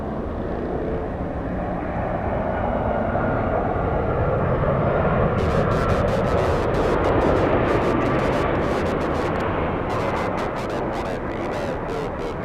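A Boeing 767 landing at LAX with a firm touchdown: a steady, loud broadband jet roar that holds throughout, with brief crackling bursts later on, and no talk.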